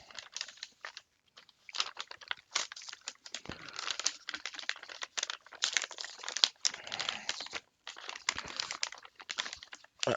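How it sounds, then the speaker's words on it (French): A taped Amazon parcel in a thin plastic Amazon bag, holding a compatible HP 150A laser toner, is torn and handled close up, with continuous crinkling, ripping and rustling in uneven bursts and brief pauses, with no talking. "on va passer sans plus tarder à l'ouverture donc du colis que j'ai reçu aujourd'hui de chez Amazon"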